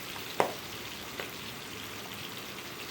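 Boal fish frying in hot oil in a pan, a soft steady sizzle with two sharp spatters popping out near the start, no talking.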